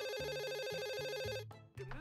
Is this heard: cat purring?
no